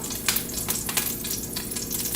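Pork loin sizzles in hot olive oil over medium-high heat, a steady crackling fry with small bursts of spitting, fairly quiet and with no voices.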